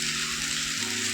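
Oats pilaf frying in a pan as water is sprinkled in and stirred, giving a steady close, loud sizzle with a sharp hiss throughout, no talking.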